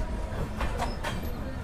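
The Satavahana SF Express at Mahabubabad station gives a steady, dense rumble with faint clatter throughout, at a moderate level.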